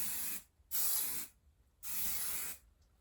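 Two bursts of hairspray hiss in close succession, each lasting under a second, separated by short quiet pauses.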